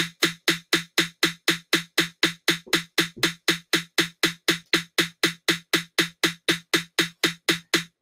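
Steady electronic snare drum hits playing back as even eighth notes in Song Maker, a crisp sharp strike repeating at a constant quick rate for several seconds, clean and isolated with no talking.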